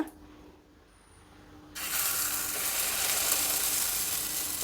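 Dosa batter hits a small hot pan in a home kitchen, bursting into a loud, steady broadband sizzle after a quiet start, continuing evenly to the end with no talking.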